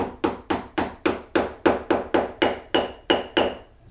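A chisel is struck about a dozen times in an even, steady rhythm while cutting a mortise in wood, each blow a sharp, close knock with a brief decay.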